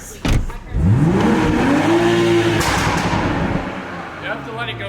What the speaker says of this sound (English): I'll rev it. I'm gonna rev it.